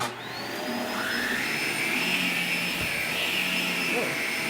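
A Shark Pet Pro vacuum cleaner runs steadily and loudly up close, its motor whine building at the start and then holding a constant airy roar as it works over a floor, with a faint voice underneath.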